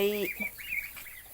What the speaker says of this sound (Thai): เป็ดน้อยของเรา